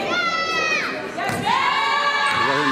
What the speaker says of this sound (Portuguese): Gritaria da torcida contra